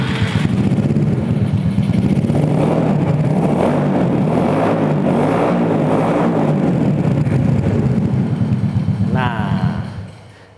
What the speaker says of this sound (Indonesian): Kita mau cobain suaranya dari si motor Blackpink ini.